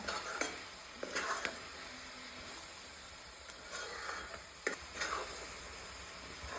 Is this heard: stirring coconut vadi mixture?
yes